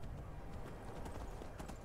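Brief, steady clip-clop of horse hooves trotting along a road in a modded Skyrim video game near Kynesgrove, heard at moderate volume against a constant ambient backdrop.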